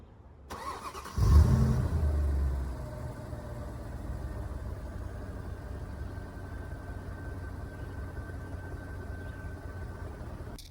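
A 2010 Mercedes-Benz SL550 AMG roadster engine cranks and fires with a loud burst, then settles into a steady, smooth idle for the rest of the time.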